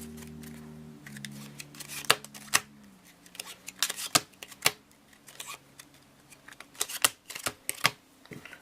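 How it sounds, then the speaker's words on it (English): A deck of playing cards being cut by hand during a card trick: a series of sharp, close clicks and snaps at irregular intervals, over a faint low hum. "I'm just going to give the deck a couple cuts, just like this."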